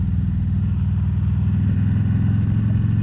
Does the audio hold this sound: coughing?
no